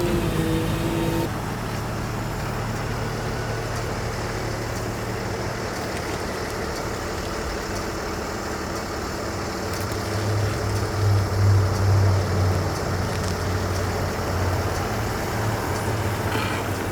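A cheap, faulty Mercedes S-class creeping up a driveway, with a low, steady engine rumble and a brief louder surge near the end, and no voices.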